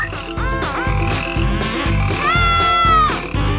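Rapid repeated frog croaks in quick rhythmic bursts, close and loud, with a bright musical backing throughout.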